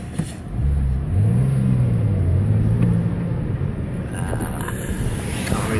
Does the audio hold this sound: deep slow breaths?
no